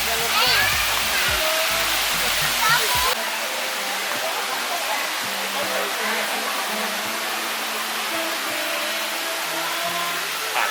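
Rushing waterfall at Sai Yok Noi in Kanchanaburi, Thailand, a steady broad roar of falling water, with people talking over it nearby.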